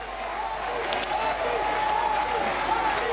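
Applause at a rural development mission launch event as the Prime Minister is welcomed with a bouquet, a continuous crowd clapping throughout with some murmuring beneath.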